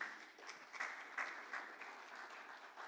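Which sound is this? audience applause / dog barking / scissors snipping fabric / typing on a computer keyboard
audience applause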